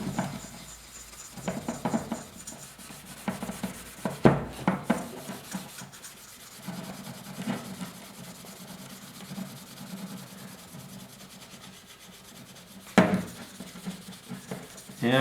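Rubbing, sanding-like strokes as surface rust is polished off the front shock of a 1974 Yamaha RS100 motorcycle, with irregular scrubbing bursts and a few louder scrapes, fairly close and without talk.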